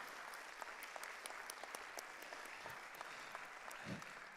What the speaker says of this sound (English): Let's give the team a round of applause.